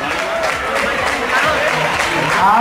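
A crowd at the finish line of the 2019 Vuelta Pedestre footrace in Morón de la Frontera applauds and cheers as the first woman comes in, with steady dense clapping mixed with crowd voices throughout.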